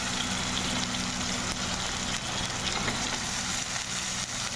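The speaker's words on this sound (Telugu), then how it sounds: "ఇప్పుడు మనం కడిగి పెట్టుకున్న ములక్కాయలు కూడా అందులో వేసుకుందాము" Steady, fairly quiet frying sizzle as washed drumsticks cook with softened tomatoes in a pan for South Indian mulakkaya pappu charu, a continuous hiss with faint low rumble and no talking.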